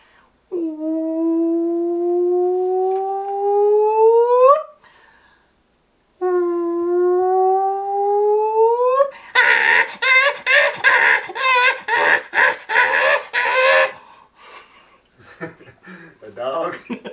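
A voice imitates a monkey: long rising whooping howls, a pause, another rising howl, then a fast run of loud chattering, shrieking calls that trail off into softer bursts near the end.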